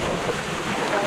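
Water pours down at Devkund waterfall into a deep pool, a dense and steady roaring rush that sounds close and loud with no talking.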